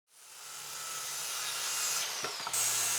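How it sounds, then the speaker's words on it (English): A power saw cuts through a 2x6 wooden board for compost-tumbler legs, rising quickly into a loud, steady close-up whine and rasp that holds for about three seconds, with a brief change in pitch near the end of the cut. "what you're seeing here is I'm cutting the 2x6 to create a pair of legs"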